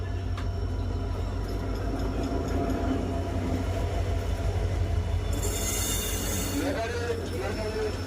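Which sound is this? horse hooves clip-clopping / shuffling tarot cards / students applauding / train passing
train passing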